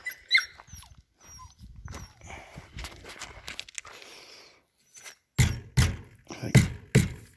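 A dog near a boat whimpers in thin, high cries, then gives short, low growls and huffs in loud, close bursts separated by pauses.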